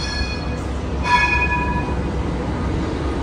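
A tram runs along a city street next to a hotel, a steady rumble of rail traffic with a thin metallic wheel squeal ringing through it for a second or two, with no talk.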